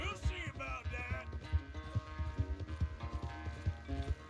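A horse gallops in Red Dead Redemption, with a fast, steady run of hoof thuds close up and faint musical tones underneath.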